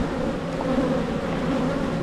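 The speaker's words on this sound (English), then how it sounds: "all the bees want to go in" Honey bees buzz steadily and densely at a hive entrance in mid-May, a continuous close, loud drone with no pauses and no voices.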